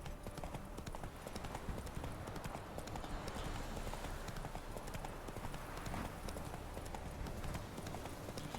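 Hooves of Roach, a horse in The Witcher 3: Wild Hunt, clip-clop in a steady trotting rhythm, fairly faint under game ambience, with no talking.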